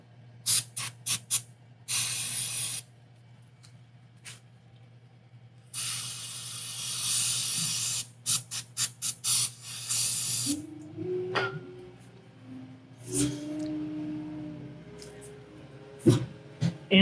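Repeated bursts of spray cleaner hiss around a motorcycle oil drain plug on a Kawasaki Vulcan S, some short puffs and some long blasts, close and loud, with someone talking briefly near the end.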